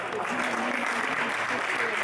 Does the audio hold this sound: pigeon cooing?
no